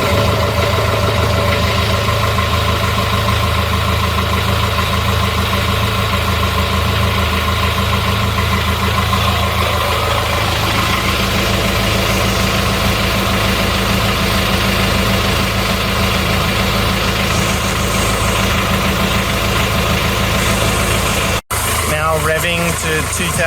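A Yanmar 4JH57 marine diesel boat engine running at a steady idle, a loud continuous low rumble and vibration close by, with a sharp click near the end.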